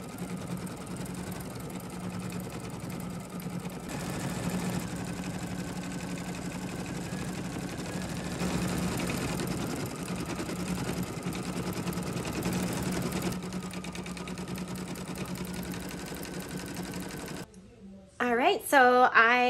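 An embroidery machine stitches an in-the-hood Minnie Mouse luggage tag with a steady, close mechanical whir and rapid needle chatter that runs without pause, then stops shortly before the end, when a voice speaks.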